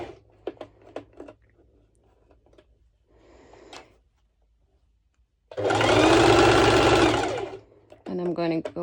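Brief speech and light handling give way to a sewing machine running in one steady burst for about two seconds, stitching along a swimsuit cutout piece, before a voice speaks again.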